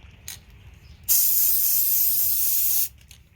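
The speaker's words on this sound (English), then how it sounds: "When you first spray it on, it looks wet" A single continuous burst of Rust-Oleum 2x Ultra Cover clear matte spray paint, a loud, steady hiss lasting about two seconds, close by, with quiet surroundings before and after.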